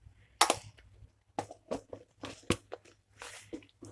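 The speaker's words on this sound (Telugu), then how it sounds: "ఆవాలు చిటపటలాడిని" Mustard seeds spluttering in hot oil in a pan while cooking a Telugu-style curry of black-eyed peas and drumstick leaves, sharp scattered pops and crackles close up, irregular and loud against a quiet background.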